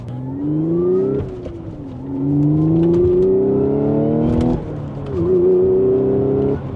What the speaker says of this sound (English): Sometimes it's my shifting, as you guys could tell there, that 3rd to 4th shift